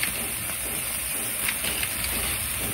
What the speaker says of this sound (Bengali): এবার আমরা এটাকে ভাজা করছি